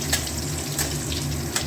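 Ginger and green chilies fry in a pan with a close, continuous hiss and a low hum underneath, plus a few faint spits and crackles.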